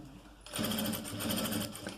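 A sewing machine stitches fabric, running a seam and changing direction, in a fast steady whirring clatter that starts after half a second and continues close and loud with no talk.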